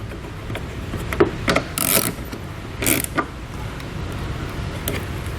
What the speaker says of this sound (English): Then we can put that stud back on and tighten it down.